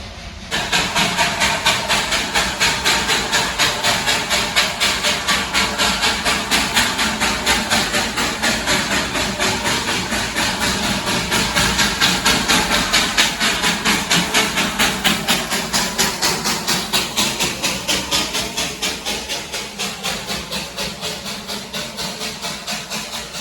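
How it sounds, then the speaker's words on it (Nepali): A train approaches, rumbling steadily with a continuous rhythmic clatter and hiss, loud and close throughout, with no voices, on the route from Siliguri to Darjeeling. "ट्रेन आउँदैछ ट्रेन देखाउँछु ल म तपाईँहरूलाई"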